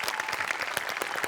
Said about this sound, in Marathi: प्रथमेश, तुझ्यासाठी जोरदार टाळ्या.